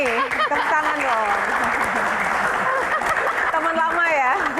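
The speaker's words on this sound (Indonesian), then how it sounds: "Kita berikan tepuk tangan untuk Kak Fani Fadila." An audience applauds panelists at a televised Q&A, continuous clapping heard under lively speech and excited voices from people nearby.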